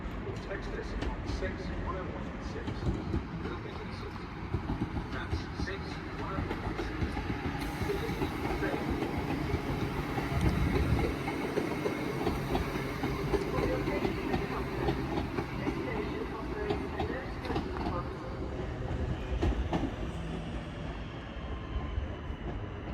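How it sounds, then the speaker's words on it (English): A Class 323 electric multiple unit from Liverpool pulls into its terminating platform, a steady rumble and rail noise close by with clattering and squeal, while people talk nearby. "A train now terminating is a 323 that came from Liverpool."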